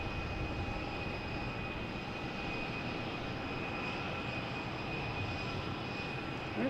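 A JetBlue airliner arriving from Austin at Boston Logan rumbles faintly at a distance as a steady, broad engine roar with a thin high whine, constant and without speech.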